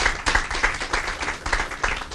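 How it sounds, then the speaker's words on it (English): Audience applause at a county career center grand opening, a short burst of hand clapping that rises and falls unevenly in a fairly close, moderately loud wash. "we should give her a round of applause for all the hard work"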